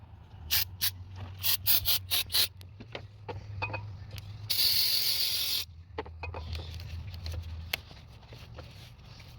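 Choke and carb cleaner is sprayed onto the throttle body of a Honda CR-V with a rough idle, in short loud hissing bursts and one longer spray, with faint handling noises between them.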